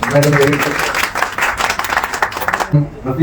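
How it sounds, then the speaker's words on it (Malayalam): An audience at a journalists' event claps for an invited guest. The applause is mixed with voices and fades out near the end, where a brief voice is heard. "എല്ലാവരും കൈയടിക്കണം"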